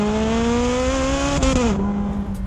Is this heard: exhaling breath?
no